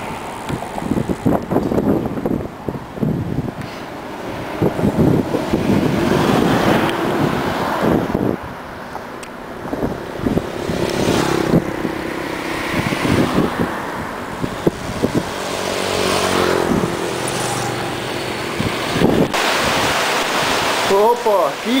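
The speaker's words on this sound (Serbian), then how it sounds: "Opa, kiša!" Rain falls outdoors near a shopping centre in Thailand, a steady broadband hiss that swells and dips, with scattered sharp taps and rustles throughout.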